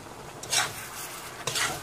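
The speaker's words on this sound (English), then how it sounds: "Let's give this one a good mix, okay?" Zucchini with corned beef being stirred in a frying pan, two short scraping swishes of a utensil against the pan over a soft continuous sizzle.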